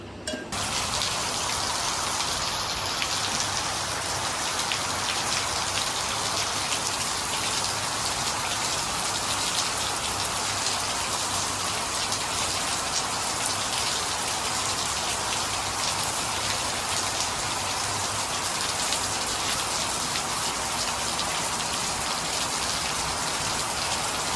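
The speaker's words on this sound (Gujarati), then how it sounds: "મારે આવી ગયો મસ્ત મજાનો વરસાદ." Steady rain falls throughout on a monsoon day, a dense, even hiss of drops striking surfaces nearby, continuous from start to finish with no voices.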